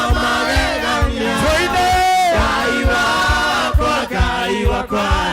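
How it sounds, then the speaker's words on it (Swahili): A church congregation at a Kikuyu service claps rhythmically, with steady beats running beneath loud group singing. "Tutapiga makofi."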